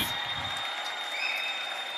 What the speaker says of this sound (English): We hear people cheering.